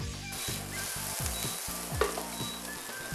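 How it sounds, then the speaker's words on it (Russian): Chopped mushrooms, onion and lard frying together in a pan, a loud continuous close sizzle with crackling over a steady hiss and occasional stirring scrapes. "Режем грибы, лук, сало и соединяем все это в сковородке для приготовления фантастической поджарочки."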